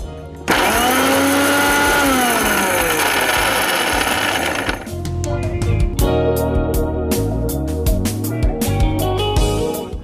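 An electric mixer grinder whirs loudly at close range while grinding spices. It runs as a steady, high-pitched drone that winds down, then gives way to choppy rattling bursts as the jar contents shift.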